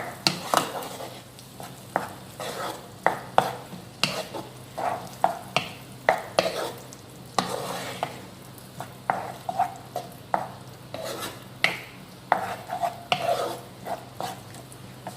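Cauliflower gobi manchurian stirred with ketchup and soy sauce in a pan, a long run of rhythmic spatula scrapes and clanks against the pan over a faint sizzle, steady and close.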